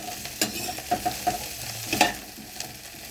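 Cauliflower is stirred in hot oil in a pan, giving a steady sizzle broken by several scraping, clattering strokes of a spoon, close and fairly loud, with nobody talking.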